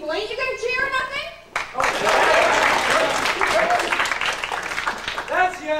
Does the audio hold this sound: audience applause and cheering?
yes